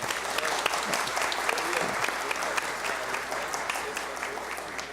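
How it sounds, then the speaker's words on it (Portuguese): A round of applause fills a solemn session of a state legislative assembly, many hands clapping steadily and fairly near for about five seconds, with faint voices mixed underneath. "uma salva de palmas para ela também"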